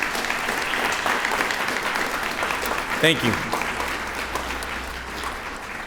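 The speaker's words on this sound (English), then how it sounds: "Let's give these individuals a big round of applause" An audience applauds veterans at a Patriots Day ceremony, continuous clapping throughout with a brief spoken thanks near the middle.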